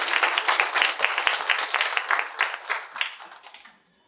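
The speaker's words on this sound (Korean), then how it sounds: "저희 이제 2부 진행, 박수 부탁드립니다." Audience applause at a tech meet-up in Seoul, a small room's worth of distinct, close claps rising and falling in bursts before stopping abruptly near the end.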